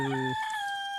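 A rooster crows briefly and close by, a single drawn-out call.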